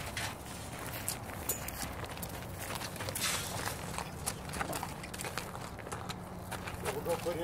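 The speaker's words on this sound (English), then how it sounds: "He's a big horse." A large, energetic horse walks with a steady run of hoof clip-clops at close range, set against a busy outdoor background.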